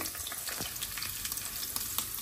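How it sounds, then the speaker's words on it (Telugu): Cumin, mustard seeds and green chillies crackle and sizzle in hot oil in a pan, a steady close frying hiss with quick pops throughout. "ఆయిల్ వేసుకుందాము, పోపు పెట్టుకుందాము"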